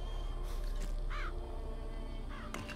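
Crows caw in short harsh bursts, triggered by the Murder of Crows vigor in Bioshock Infinite, with a few separate calls rising over a steady low game ambience.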